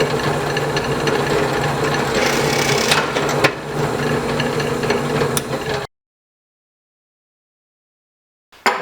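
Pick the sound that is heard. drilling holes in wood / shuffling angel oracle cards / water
drilling holes in wood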